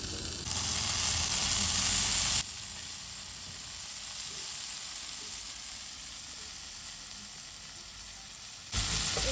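French fries sizzle in hot oil during a child's play-cooking session. The frying hiss runs steady throughout, brighter and louder in the opening seconds and again at the very end, with no talking.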